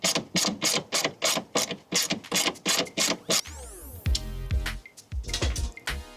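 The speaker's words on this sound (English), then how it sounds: "locate this second bolt and remove that with a 10mm" A hand ratchet clicks in quick, even strokes while backing out a 10mm bolt during a cold air intake install, close and crisp, followed by a looser spinning rattle and a few final clicks.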